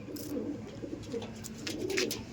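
Andhra pigeons in a loft give soft, low repeated coos, faint and close, with no voices.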